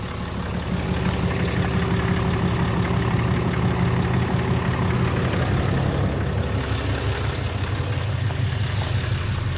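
Deep, steady engine rumble from a 2017 Ram 3500 Cummins diesel fitted with a Banks air intake, heard on the road as a loud, continuous low drone with slight shifts in tone near the end.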